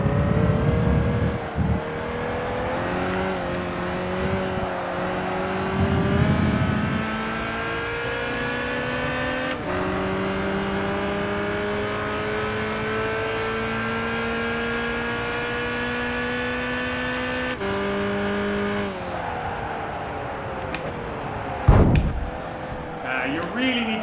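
Race car engines in Gran Turismo 5 during a race against a Ferrari Enzo, a loud sustained engine drone rising and falling through gear changes, with sharp shifts and a few brief gaps, under occasional talk.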